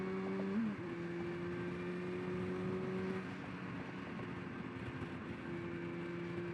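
A 2006 Honda Hornet 599 motorcycle engine running through a Dominator exhaust pipe, heard while riding as a steady mid-pitched hum with a brief rising rev early on, blended with wind and road noise.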